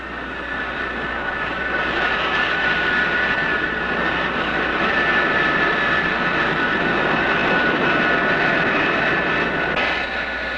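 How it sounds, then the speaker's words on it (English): American F-105 and Phantom jet fighters take off from a base in Thailand, a loud sustained roar of jet engines that holds steady throughout with no speech. "These planes, American F-105s and Phantoms, take off from these bases daily to bomb targets in North Vietnam."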